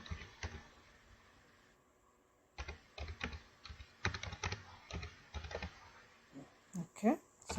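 Keys clatter on a computer keyboard in irregular bursts of quick taps with short pauses, close and fairly loud, while website text is entered; a brief gap of silence comes early, and a short squeak sounds near the end.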